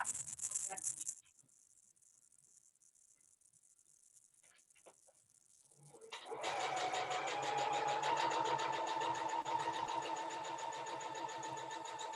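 A home sewing machine is stitching during an online quilting class for a curved log cabin block. Faint clicks come first, then after several seconds the motor starts up with a loud, steady, close whirring and rattling hum that continues to the end.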